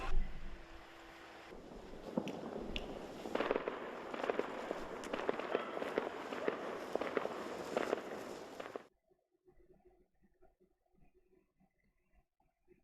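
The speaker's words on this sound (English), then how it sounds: "I assume that was the sound of fireworks going off somewhere else." Distant fireworks crackle and pop in an irregular series of faint bursts over wind noise for about nine seconds, then cut to near silence.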